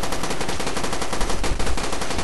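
Rapid, loud automatic gunfire from a multiplayer free-for-all video game shooter, a dense unbroken stream of shots with no pauses.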